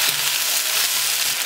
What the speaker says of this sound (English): Let them cook on medium heat for about 10 minutes.